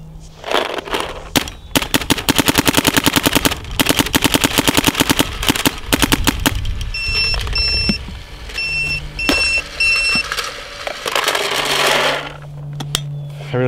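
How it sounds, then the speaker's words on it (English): Dye M3s paintball marker firing in rapid bursts, sharp dense cracks in quick strings with short pauses and faint electronic beeps, loud and close with no talk. "So I just wanted to do some shooting."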